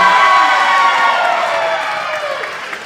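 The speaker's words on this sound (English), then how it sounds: "The crowd certainly enjoyed that one" A netball crowd at a professional league match cheers and applauds loudly, a dense roar with whoops that slowly fades over a few seconds.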